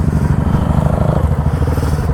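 A Bullet motorcycle with a mechanical problem runs loud and close, its engine thumping in a rough, uneven rhythm with a clattering edge.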